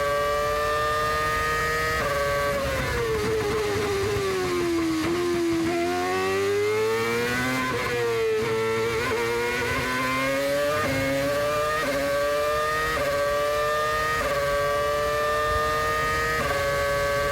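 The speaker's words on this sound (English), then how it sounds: "it doesn't sound all that bad, really, for a broken exhaust" A 2008 Formula 1 car with a broken exhaust whines loudly at the French Grand Prix, its pitch dipping and climbing through gear changes with a rough, rasping edge, no talk over it.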